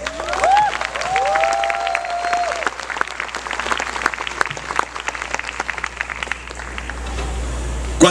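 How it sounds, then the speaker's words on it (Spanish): A church congregation applauds at a Christian sermon, a sustained burst of clapping from many hands that carries on for several seconds with a few murmured voices underneath. "Un aplauso para las mujeres."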